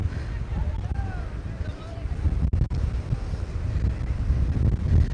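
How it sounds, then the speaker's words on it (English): Steady wind buffets the microphone in Ciudad Jardín, Palma de Mallorca, a low rumbling roar that swells and dips throughout with a couple of brief dropouts. "It's getting a little bit breezy here. I apologise for the noise."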